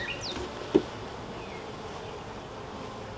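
Honey bees buzzing in an opened hive during an inspection with smoke, a steady soft drone throughout with a brief knock near the start.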